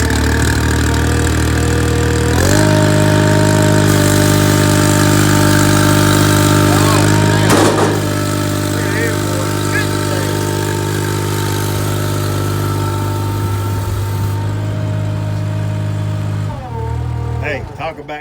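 A Ventrac tractor engine catches and settles into a steady, loud idle nearby, its low drone running throughout and dropping in pitch near the end.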